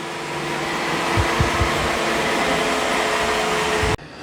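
iRobot Roomba i5+ robot vacuum running around a room, a loud, steady whirring drone with a few low bumps partway through, cutting off abruptly near the end.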